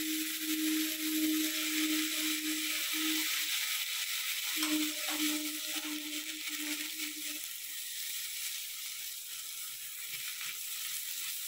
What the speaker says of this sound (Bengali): মশলার সাথে চালটা দেওয়ার পরে একটু নেড়ে নিলাম কয়েকবার